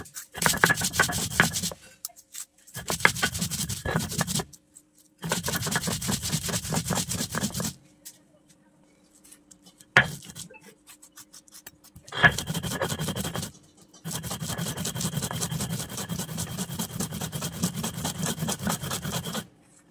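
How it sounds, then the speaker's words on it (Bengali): Chili, onion and salt being ground on a stone slab, bursts of gritty rhythmic rubbing separated by short pauses, close and fairly loud, with no talk. "পেঁয়াজ, লবণ দিয়ে বেটে নিচ্ছি।"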